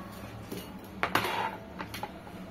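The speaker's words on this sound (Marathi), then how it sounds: "तर आता ह्या शेंगा आपण चिरून घेऊया" Drumstick pods cut with a knife, a few sharp snapping and clicking cuts close up over a quiet room, with one louder crack in the middle.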